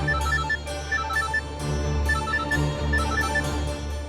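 A telephone ringtone trills in repeated bursts with short gaps between them. It is loud and close, with no talking, in a Punjabi family TV drama scene.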